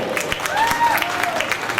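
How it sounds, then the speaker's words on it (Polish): A crowd applauds both fighters at the end of a longsword bout at a tournament in Chorzów, producing brief scattered clapping with a few whistles over a busy hall ambience. "Brawa, brawa dla obu."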